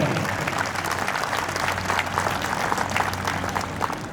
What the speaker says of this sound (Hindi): एक बार आप सबसे आग्रह करता हूँ कि जोरदार ताली बजा कर उनका स्वागत करें।